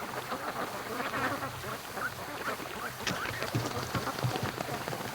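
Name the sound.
ducks at a lake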